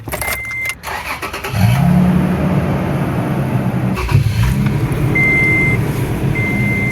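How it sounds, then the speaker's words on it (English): Toyota pickup truck with manual transmission, engine idling steadily and loud up close after a short clatter and startup, a smooth low hum running throughout with brief electronic beeps over it. "See, that motor sounds really good."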